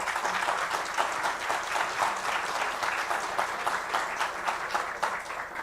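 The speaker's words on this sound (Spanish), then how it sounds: "Acá en la sala hay aplausos" Applause from an audience in a room at an arts event, steady dense clapping from many hands heard throughout at moderate volume, with no voices above it.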